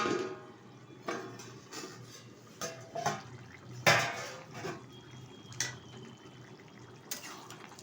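Metal clatter of a pot lid being handled over a cooking pot of jackfruit and potato: scattered clanks and taps at close range, some louder than others, with faint running water in the background and no voices.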